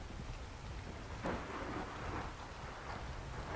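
Rain and thunder in a dinosaur-taming video game form a dense, steady downpour hiss with a low rolling rumble of thunder underneath, with no voices.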